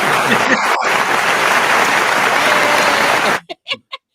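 Dense applause from a studio audience at a soul line dance talk show, welcoming guest Bernard Smith, steady and loud for over three seconds before cutting off to a few scattered final claps.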